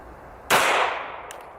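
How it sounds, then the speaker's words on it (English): A single sharp 9mm pistol shot with a full metal jacket round fired into a lead block outdoors: a loud crack followed by a short fading tail. "9mm out of my Slovenian pistol. This is a full metal jacket."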